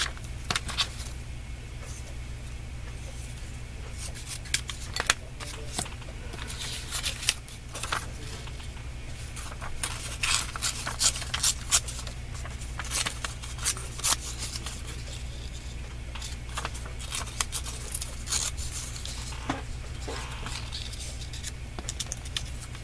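Scissors snip through fabric scraps while quilting, producing a steady series of close, crisp cuts and rustles over a constant low background hum, with no talking.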